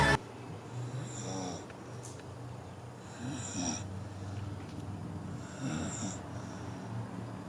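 Steady, rhythmic snoring with rasping inhales repeating every couple of seconds, close and fairly loud, with no talking.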